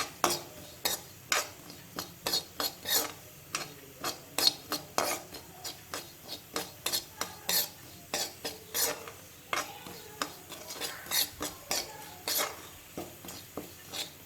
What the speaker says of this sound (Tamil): அந்த நெய்யோட வாசனை அந்த அவலும் நெய்யும் சேர்ந்த வாசனை வர வரைக்கும் நல்லா வறுத்துக்கலாம்.